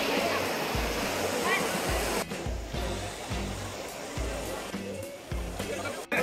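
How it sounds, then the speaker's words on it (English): Heavy pouring rain at a cenote near Valladolid and Chichén Itzá, a steady dense hiss with irregular low thumps of wind or handling noise under people talking. "We just came and it's like pouring rain."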